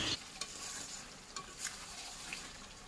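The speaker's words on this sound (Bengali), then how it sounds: "চিকেন কষা হচ্ছে এখানে, এখনও কষানো হয়নি, তো এখানে কষা হচ্ছে।" Chicken stir-fried in a pan gives a soft, continuous sizzle with a few brief scraping stirs, heard close and alone.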